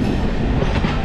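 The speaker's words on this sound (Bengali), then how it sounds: "আর এই সামনে হচ্ছে কন্যাকুমারী ডিব্রুগড় বিবেক এক্সপ্রেস" The Kanyakumari–Dibrugarh Vivek Express rolls past close by, its rumble steady and loud with rhythmic clickety-clack of wheels over rail joints throughout the short stretch.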